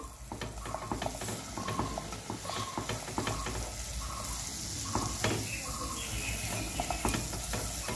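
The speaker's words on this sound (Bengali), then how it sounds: "এবার এগুলোকে সুন্দর করে একটু ভেজে নেব।" Bread pieces frying in butter in a pan during village-style Bengali cooking, with a constant sizzle under repeated scraping and stirring clicks from a utensil, fairly close.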